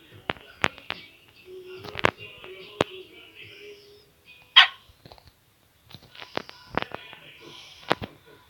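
A dog lets out a string of sharp, separate barks, some close together and others spaced apart, mixed with quieter vocal sounds in the pauses.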